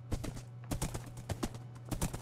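A fast horse's hooves clip-clop in Minecraft, a quick irregular run of sharp knocks over a constant low hum, moderately close, with no talking.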